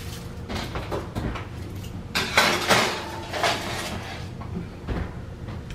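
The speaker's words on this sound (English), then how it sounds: "I'm gonna throw it in the oven." A pan of bacon doughnut breakfast sandwiches goes into an oven, with clanks of metal on the rack and the oven door knocking and sliding, a few sharp close bangs among quieter handling.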